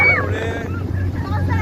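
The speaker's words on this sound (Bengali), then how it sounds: "মজা করে স্পিডবোটে ঘুরছি আমরা" Speedboat ride across open water, with steady low motor drone and rushing wind buffeting the microphone throughout; people talk excitedly over the noise.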